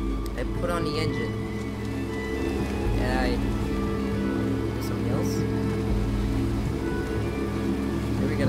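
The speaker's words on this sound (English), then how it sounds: "I put on the engine." A boat engine runs in the video game Unravel, a steady low droning hum with water sounds, continuing under a person's lively talk.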